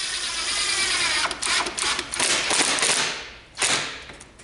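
A power drill drives small square-bit screws into a wooden whiteboard frame, a steady whirring motor run of bursts that speeds and slows, close and loud, with a brief pause before a final spin.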